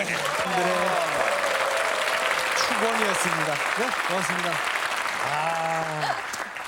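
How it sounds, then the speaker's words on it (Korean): Steady studio audience applause on a Korean KBS variety show about the Korean Military Academy, filling the whole stretch at even loudness, with a host's voice speaking over it throughout. "이때 박수 보내주세요."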